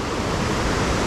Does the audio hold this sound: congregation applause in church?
no